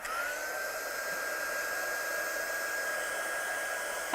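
A hair dryer blows steadily on craft pieces in a studio, a loud continuous whir with a high tonal whine, running alone without pause and with no talk.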